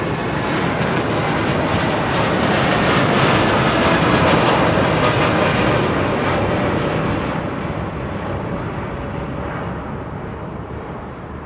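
A United airliner passes at London Heathrow Airport, a loud broad jet roar that holds steady and then slowly fades as the aircraft moves away.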